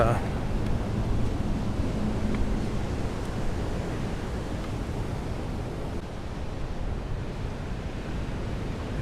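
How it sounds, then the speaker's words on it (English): Rough ocean surf at Waimea Bay, heavy waves churning in a continuous broadband roar with wind buffeting the microphone, loud and close throughout, with no voices. "the waves are really going at it today, but still the ocean calms me"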